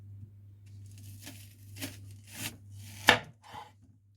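Knife cutting an onion in half on a wooden cutting board: a few quiet slicing strokes with a soft crunch and a final sharp knock of the blade on the board, over low background hum.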